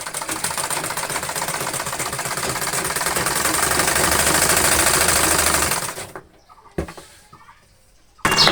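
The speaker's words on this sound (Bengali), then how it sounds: "তাকে এই যে সেলাই করে দিচ্ছি" A sewing machine stitches petticoat fabric in a fast, steady mechanical whir for about six seconds, then stops abruptly, followed by a brief clunk and a short restart at the end.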